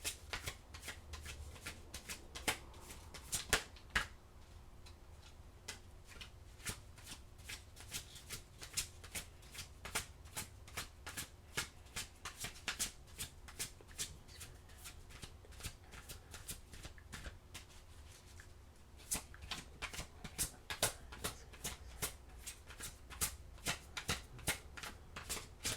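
Tarot cards shuffled by hand, a long steady stream of quick crisp riffles and flicks, close and quiet, with no talking.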